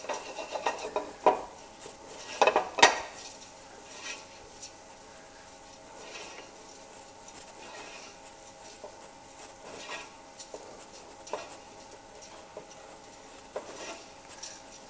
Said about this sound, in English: the trick is with the risotto that you need to be stirring it all the time